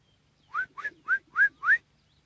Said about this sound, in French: l'oiseau que vous entendez là, c'est l'oiseau que je préfère